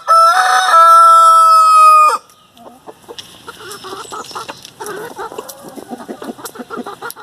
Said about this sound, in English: These are my Hamburg chickens, and I have large fowl.